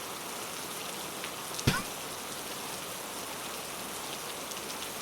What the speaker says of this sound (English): It's just rain, just storming.